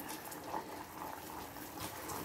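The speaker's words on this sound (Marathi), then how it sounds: "आपल्याला हा पाक असा सतत ढवळत राहूनच बनवून घ्यायचा आहे" Sugar syrup for sakharechya gathi bubbles in a pan over a lowered gas flame while being stirred continuously, giving a steady close hiss and soft liquid churning with no talking.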